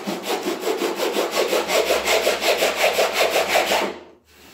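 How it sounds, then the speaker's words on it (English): Hand sanding on an old wooden dresser during refinishing, heard as a steady, close, rhythmic scratchy rubbing of quick back-and-forth strokes that stops abruptly near the end. "and sand it."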